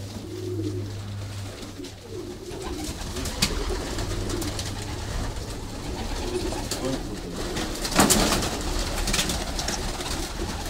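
Pigeons coo steadily at close range, likely racing or show birds in a loft, with a low continuous hum underneath and occasional wing flutters or bumps; a few brief voices murmur in the background.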